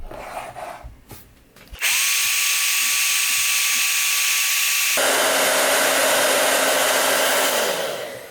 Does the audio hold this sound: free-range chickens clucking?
no